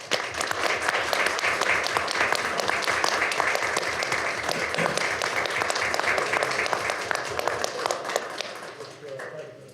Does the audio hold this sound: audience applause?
yes